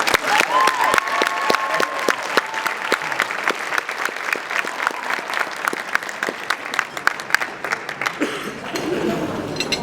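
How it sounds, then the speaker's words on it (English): Sustained applause from a gala audience at a scholarship event, dense steady clapping close by that carries on for several seconds before thinning out near the end. "So please give those standing a round of applause."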